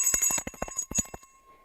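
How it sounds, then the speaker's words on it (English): A hand bell is rung to open the London stock market, a rapid run of about a dozen bright clanging strikes that stops and leaves a brief fading ring. "Ravi, as the guest, you can ring that bell and open the London"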